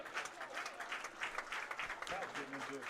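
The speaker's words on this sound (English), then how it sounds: "Crowd getting into it here at First Bank Park" Baseball crowd at First Bank Park applauding and cheering steadily through a minor-league doubleheader game, a continuous wash of clapping with a voice briefly audible near the end.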